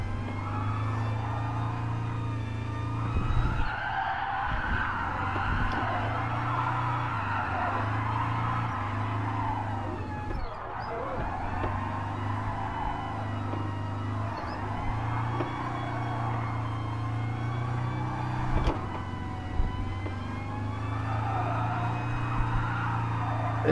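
A Volkswagen Bus sliding sideways in the racing game Gran Turismo Sport, a steady droning engine hum with sustained tyre scrub, rising and falling gently and running alone for over twenty seconds.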